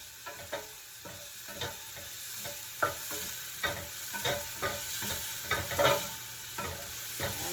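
Garlic and golden onions frying in a pan for saag paneer: a steady close sizzle broken by regular spatula scrapes and taps, with no talking.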